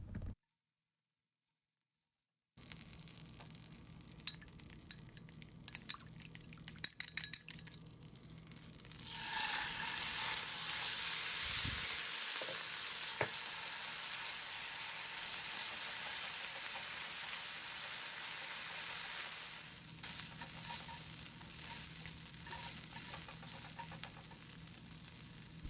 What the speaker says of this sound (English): It's kind of like they're just frying, but they kind of sound different.